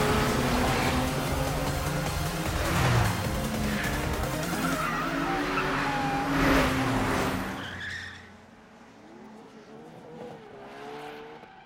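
Anime street race cars, one a heavy GT-R, roar past at speed with shrieking tire squeal and skidding over loud engine noise, then fade into the distance, leaving quieter engine drone at the end.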